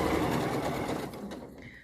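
A sewing machine stitches a curved sleeve seam on medical scrubs, its steady rapid whirring loud and close, then slowing and stopping near the end.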